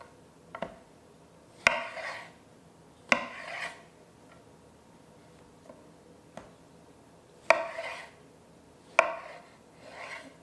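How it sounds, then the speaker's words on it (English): Knife cuts through soft roasted eggplant in a series of sharp, close taps, with about six distinct strokes landing unevenly and a brief scraping rasp after several of them, against otherwise quiet kitchen surroundings. "Flip these over, make a few slices."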